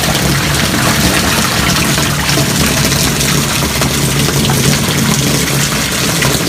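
Pond water runs steadily out of a fishpond into a channel that feeds crops, a constant broadband rush with a low rumble that stays close, loud and even throughout with no talk.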